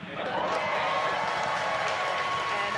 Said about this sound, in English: obviously confirmed by the loud cheer behind us here at Mission Control Hawthorne